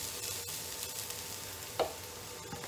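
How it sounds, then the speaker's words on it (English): Onions sauteing in a hot pot for shell pasta soup with chicken, a faint low sizzle with a couple of light utensil clinks, quiet and without talk. "Let's get these onions in there, and we're gonna start sauteing them."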